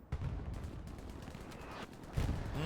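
Bursts of rapid gunfire in the WWII shooter Hell Let Loose during a competitive match, sharp cracks and rattling volleys at mid distance, loudest near the start and again toward the end.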